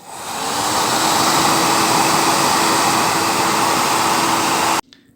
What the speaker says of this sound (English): we're going to use a hot air dryer and then we're going to shrink this down to make a stone